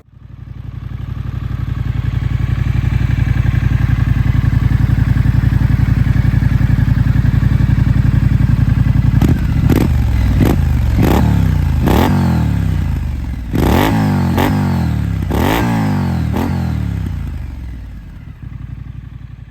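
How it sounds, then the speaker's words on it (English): A 2023 Triumph Scrambler 900's parallel-twin engine idles with a steady, deep rumble, then revs sharply several times in quick bursts, loud and close. "I'm gonna fire this bad boy up, let you guys hear it."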